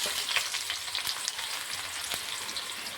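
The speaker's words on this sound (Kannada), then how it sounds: "ಕಟ್ ಮಾಡಿ ಇಟ್ಟಿರುವಂಥ ಈರುಳ್ಳಿ ಹಾಕ್ತೀನಿ." Chopped onions sizzle in a hot tempering of oil with mustard seeds and cumin, a close, steady crackling fry with faint stirring scrapes.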